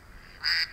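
A duck lets out a single brief quack, close and fairly loud, after a moment of quiet.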